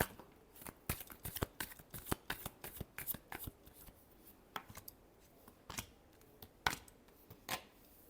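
Tarot cards shuffled by hand in quick irregular bursts of crisp riffling and slapping, close and fairly quiet, with brief pauses between flurries and no talking.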